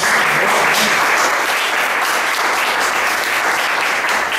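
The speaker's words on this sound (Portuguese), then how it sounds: "Dê uma linda salva de palmas ao Senhor." Congregation at a church service breaking into sustained, loud applause that fills the whole span, a dense steady wash of clapping with no talk over it.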